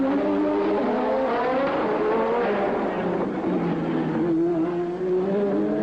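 Formula 1 race cars at the 1983 Detroit Grand Prix street circuit, their high-pitched engines screaming continuously and loud as several cars run together, pitches sliding up and down through gear changes.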